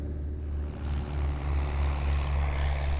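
A tail-dragger propeller aeroplane's piston engine drones loudly and steadily from inside the aircraft, its low pulsing throb rising slightly in intensity over a few seconds.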